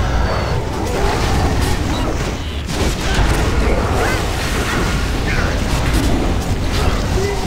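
Chi explosion in World of Warcraft (Mistweaver monk, Slag Mines dungeon), a loud, dense rumbling burst of magical blasts and clanking game effects running steadily through the whole stretch with no pause.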